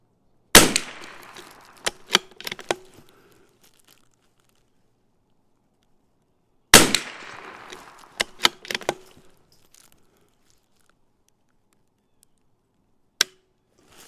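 CZ 457 rifle shots during test firing with a suspected firing pin fault: two clusters of sharp, close cracks, each an initial loud report followed by several smaller clicks and clacks, then a lone crack near the end amid quiet gaps.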